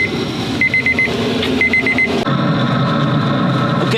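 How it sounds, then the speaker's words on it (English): A kitchen thermometer's timer alarm sounds during a prime rib roast, two quick bursts of rapid high beeps, about five each, ringing clearly over a low background hum. "Okay, so our chef alarm's gone off."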